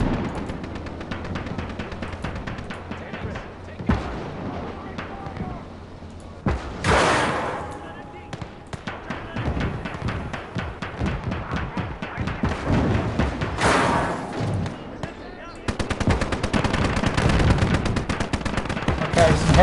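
Battle gunfire in the World War II strategy game Gates of Hell in hedgerow terrain, with dense rapid machine-gun bursts, rifle cracks and heavy booms layered almost nonstop, the loudest volleys near the middle and end.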